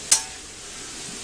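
Ground beef sizzles in a hot pan with a steady, gentle crackle as rinse water burns off, and a brief sharp scrape or stir sounds near the start.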